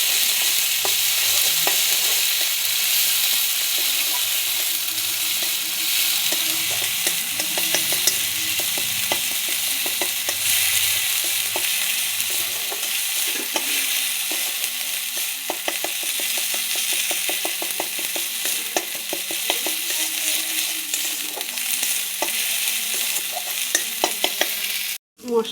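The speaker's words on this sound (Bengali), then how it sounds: "এবার তেলের মধ্যে দিয়ে দেবো অল্প পেঁয়াজ, আদা রসুন আর লঙ্কা বাটা" Ginger, garlic and chili paste frying in a little oil gives a steady, close sizzle that lasts throughout, with frequent light scraping and clicks from stirring, then stops abruptly at the end.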